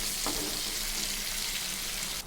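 Crab frying in hot oil in a pan, a loud, continuous close sizzle with a dense hissing texture that stays steady before cutting off abruptly at the end.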